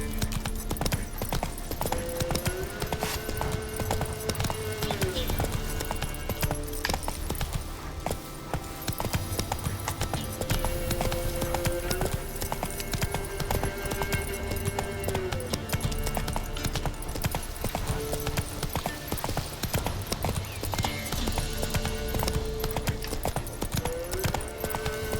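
A horse gallops in The Witcher 3 video game with steady, rapid hoofbeats that carry on throughout, set against a constant background of game ambience and music.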